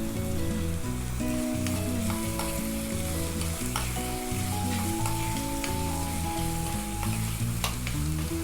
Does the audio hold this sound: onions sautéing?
yes